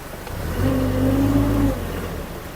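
The diesel engine of a used Mitsubishi forklift turns over with a brief, low, humming rumble lasting about a second, rising and then falling away, with no talking.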